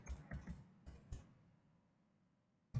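A few sharp keystrokes on a computer keyboard, clustered in a short burst at the start and one final tap after a pause, close and fairly quiet with no talking.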